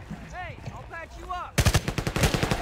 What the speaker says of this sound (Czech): On střílí do mě, nestřílejte do mě